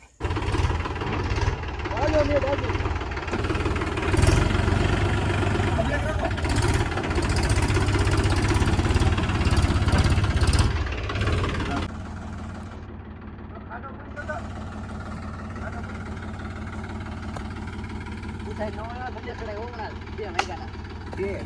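A tractor engine, with the tractor stuck, drones steadily and loudly at mid pitch, then drops to a quieter idle; people talk over it throughout.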